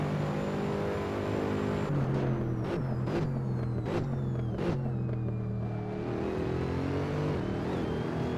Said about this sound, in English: Great sound of the car though.